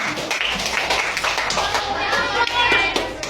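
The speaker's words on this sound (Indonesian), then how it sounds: "Tepuk tangan dulu untuk kalian" Children clapping their hands in a classroom, a quick scattered burst of claps close by, with a voice faintly mixed in.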